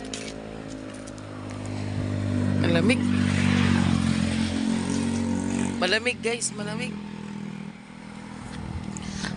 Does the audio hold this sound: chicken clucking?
no